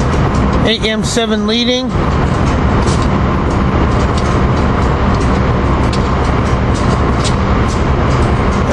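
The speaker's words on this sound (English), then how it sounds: "Here we got Amtrak train 19 to Crescent coming in." Amtrak train 19, the Crescent, arriving: a loud, continuous rumble and roar of the passing train under a steady wash of noise, with a short burst of talk near the start.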